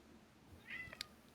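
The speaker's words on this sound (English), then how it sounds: "That's my cat. I don't know if you can hear him." A pet cat gives a single short, faint meow, followed by a small click, heard close in an otherwise quiet room.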